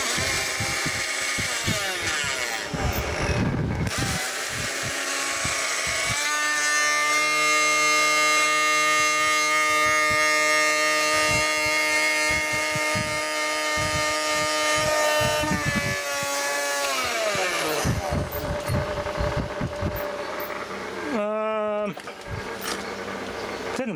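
A small 12 volt motor driven from a vintage Akai amplifier whines loudly at close range, its tone gliding up, holding, then dropping in a long siren-like sweep, with crackling and clicks around it.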